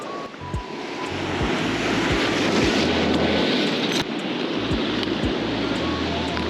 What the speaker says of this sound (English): Man, these waves are no joke.